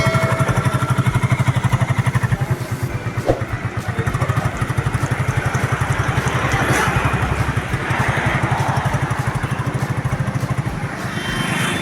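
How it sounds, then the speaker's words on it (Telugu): A Hero Glamour BS4 motorcycle engine idles close by, a loud, even, rapid thumping that runs without a break, with one brief sharp clack near the middle. "బండి స్టార్ట్ చేసి కూడా చూపిస్తాను ఒకసారి చూడండి ఇంజన్లో నాయిస్ కానీ స్మోక్ రావడం కానీ అట్లా ఏం లేదండి"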